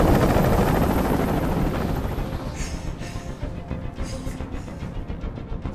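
A helicopter hovers overhead in Detroit: Become Human, a loud, continuous rotor roar with rumbling low thump that gradually softens over the seconds, leaving a fluttering drone with faint higher whines.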